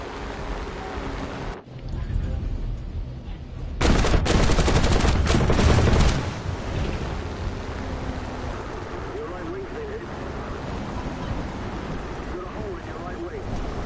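Aircraft cannons firing in War Thunder, rapid bursts of heavy automatic fire over a constant engine drone, with one loud sustained volley in the middle that then fades back under the roar.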